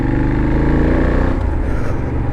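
A Benelli 752S motorcycle engine and exhaust running loud and near, a deep throbbing rumble that eases slightly partway through with no voices over it.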